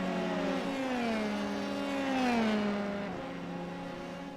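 Race cars at Monza scream past in a sustained high-pitched engine whine, the pitch sliding down as one car recedes and another rises in behind it, loud and continuous with no talk.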